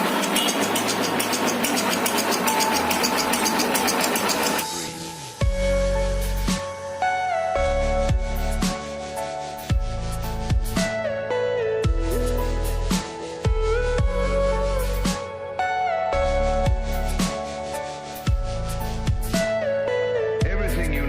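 A one-year-old Honda X-Blade motorcycle engine, just after a tappet adjustment, runs up close with a steady mechanical chug, regular rhythmic thumps and ticking, following a short hissy stretch at the start.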